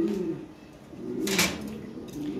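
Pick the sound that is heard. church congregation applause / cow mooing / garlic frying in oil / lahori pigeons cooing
lahori pigeons cooing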